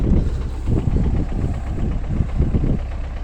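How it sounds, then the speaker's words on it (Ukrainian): A tractor engine rumbles steadily at close range while plowing a very wet field after disking, wheels slipping, with a low, pulsing throb that rises and falls slightly as it works. "Дуже мокро, трактор пробуксовує після дісковки."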